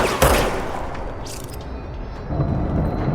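A gun fires in the video game Control: a sharp, loud blast early on, then a second muffled burst, followed by low ambient game rumble.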